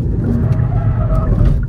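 A Kia Proceed GT 1.6 T-GDI 204 hp spins its wheels under hard acceleration. Its engine gives a steady, loud, low roar throughout, close to the listener and with no talking.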